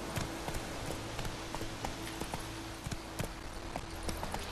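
Horse hooves gallop in The Witcher 3 game, a steady run of sharp clip-clop beats at a quick, even rhythm over a low ambient game hum.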